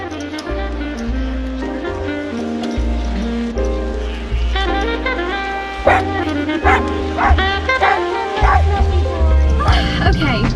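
Dogs howling, yipping and whimpering inside a moving car, loud and close, with repeated rising and falling cries layered over low road and engine rumble.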